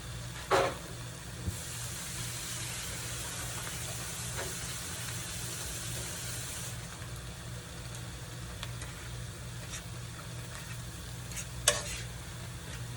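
Eggs and vegetables frying in oil for a high-protein keto breakfast scramble make a continuous sizzle, broken by a few sharp utensil clicks and taps and sitting over a low steady hum.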